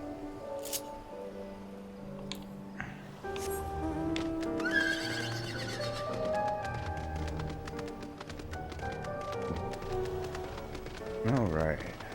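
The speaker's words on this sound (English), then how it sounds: "We need a horse." A horse in Final Fantasy XIV neighs and whinnies, its hooves clopping through a busy game scene with musical tones and other effects layered around it.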